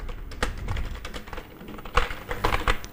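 Steady, busy typing on a computer keyboard while entering a Java program, with quick clusters of close key clicks and brief pauses, heard alone without talk.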